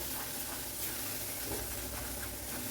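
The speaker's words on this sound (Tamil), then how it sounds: "எக்கு உடச்சி ஊற்றிட்டுங்க. இதுலேயே நல்லா ஃப்ரை பண்ணிக்கணும்." Beaten eggs for egg bhurji fry in a pan with a steady, close sizzling hiss that continues evenly without pause and without voices.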